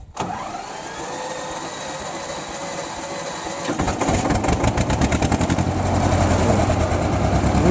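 Engine of a farm machine in a village, running and then revving harder with a rough, rapid exhaust pulsing that grows louder and closer; no talk.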